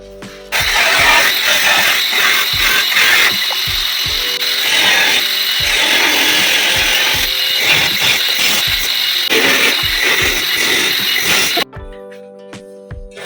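A worker cuts the leg off an iron ladder in a village, a loud, sustained rasping grind of the metal cutting that runs without pause for about eleven seconds and then stops abruptly, leaving a quiet tonal hum.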